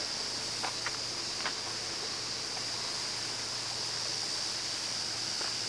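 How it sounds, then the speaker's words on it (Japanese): A mountain river in the Nagano hills in August flows as a steady, faint broadband hiss of water, constant throughout with a few light taps over it and no voices. "川の音がします。"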